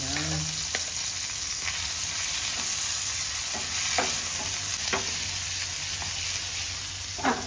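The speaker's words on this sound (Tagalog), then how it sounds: "Unang gigisay natin is kamatis" Tomatoes sauté in a hot pan with a steady sizzle, broken by several sharp scraping stirs of a utensil against the pan.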